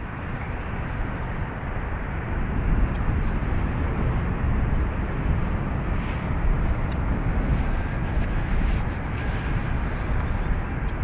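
A jet airliner takes off from runway 28 right at Dublin Airport, a steady broadband engine roar holding at constant loudness throughout, with no voices.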